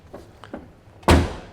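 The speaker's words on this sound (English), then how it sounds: "Love the way Mercedes-Benz doors close." A 1988 Mercedes-Benz 560SL door shuts with one solid, heavy thunk close by, preceded by a few faint taps and clicks of the latch.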